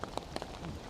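Rain falls during Japan's rainy season, a steady patter with scattered brighter drop hits over a dense wet hiss in one brief stretch, with no voices.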